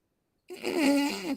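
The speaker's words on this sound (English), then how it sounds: "You're just farting in a microphone all stream." A fart sound made into a microphone during a livestream, one sustained close buzzing blurt of about a second that starts abruptly after silence and wavers in pitch.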